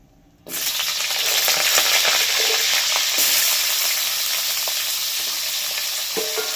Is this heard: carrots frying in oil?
yes